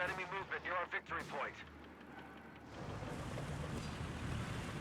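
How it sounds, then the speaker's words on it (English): Artillery barrage from 75mm guns in the video game Company of Heroes 3, heard as rumbling booms and low explosive noise building into a sustained, dense roar, with a commentator talking over the first half. "75mm barraging here."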